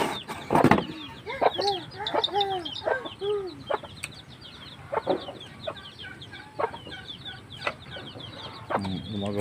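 Chickens cluck repeatedly on a farm alongside a rabbit pen, with a rooster-like call and several birds chattering in irregular bursts, plus a brief flutter of wings near the start.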